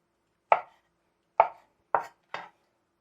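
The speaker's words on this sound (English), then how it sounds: "these I chop up in a similar size as the cucumber" A knife chops vegetables for a Greek salad on a board: four crisp, separate strokes, close and clear with silence between them.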